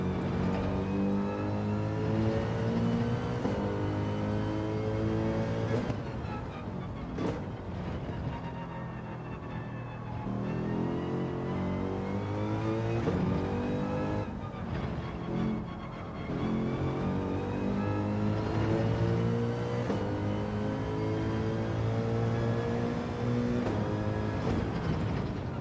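A Toyota Supra race car engine in Gran Turismo 7, roaring loud and continuous with climbing pitch through each gear and brief dips at the shifts and braking points, with no voices.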